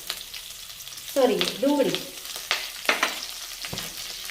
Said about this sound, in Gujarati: કાજુ સેજ શેકાઈ જાય એટલે આપણે એની અંદર નાખી દઈશું આપણા લીલા મરચાં